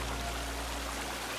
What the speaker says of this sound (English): isn't this the waterfall where Virginia's dancing